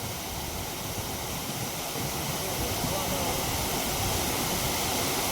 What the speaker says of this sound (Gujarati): હાલ ઉનાળામાં પણ એટલું પાણી વહેતું હોય છે.